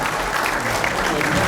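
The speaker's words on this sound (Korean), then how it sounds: "큰 박수로 환영하겠습니다." A church congregation at a dedication and founding service applauds to welcome a lawmaker to the podium, a full, steady burst of clapping with some voices mixed in.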